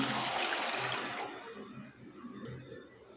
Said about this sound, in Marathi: एक ग्लास पाणी ओतत आहे